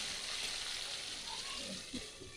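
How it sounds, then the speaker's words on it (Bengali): Oil sizzles softly and steadily as fish roe fries in a covered pan, a gentle continuous crackle, fairly quiet and close, with a brief clatter at the very end. "ঢাকা দিয়ে মাছের ডিম ভাজা করলে ডিমটা ভালো ভাজা হবে"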